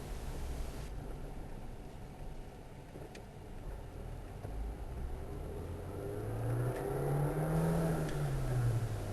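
Interior road noise from a four-cylinder car driving through a suburban area, a steady broadband rumble and whir with the engine note rising as it accelerates toward the end, no voices.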